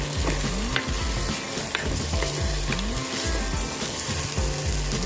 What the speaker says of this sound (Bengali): প্রথমে আমরা এটাকে একটুখানি নেড়ে নিই।